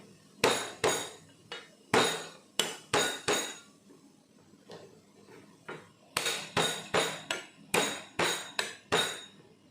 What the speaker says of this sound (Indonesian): Ini serainya kita geprek saja ya, biar keluar aromanya ya